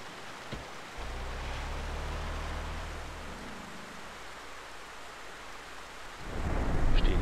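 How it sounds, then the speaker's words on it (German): In-game rain in GTA San Andreas hisses steadily while a low rumble of thunder rolls through, fading away before a heavier burst of rain or thunder swells at the end. "Regen mal wieder."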